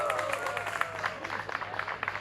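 Audience at a live cannabis legalisation talk at a festival in Auroville claps briskly for a gentleman, a short burst of scattered, fairly close hand claps that thins out toward the end.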